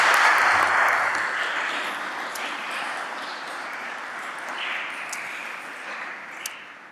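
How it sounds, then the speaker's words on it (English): A lecture audience at a Duke theology and arts event applauds with steady, even clapping that starts full and gradually tapers off. "another round of applause for a wonderful conversation"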